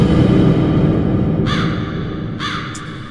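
Crows in the Roblox horror game The Mimic give two harsh caws, clear and fairly close, over a steady low rumbling ambience.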